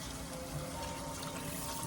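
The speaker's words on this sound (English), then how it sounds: "First thing I'm going to do is go ahead and add me some water." Water pours steadily into a stew pot of beef and vegetables in a home kitchen, a continuous rushing splash close by with no talk over it.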